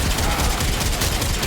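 Rapid, continuous gunfire from a semi-auto weapon in a video game, loud and dense, with no break across the short burst.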